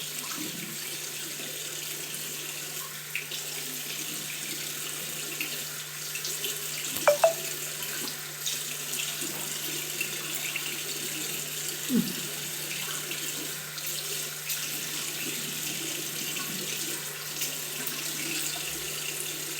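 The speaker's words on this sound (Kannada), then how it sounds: "ಈಗ ಮುಖ ತೊಳ್ಕೊಳ್ತೀನಿ" Tap water runs steadily into a sink while a face is washed, a constant close splashing stream with a couple of brief knocks and light handling sounds.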